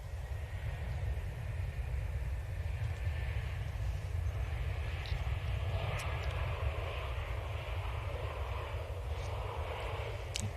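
An EasyJet Airbus A320neo arriving at Manchester Airport on runway 23L from Nice, a steady, moderately loud jet engine drone with broadband rumble holding evenly throughout.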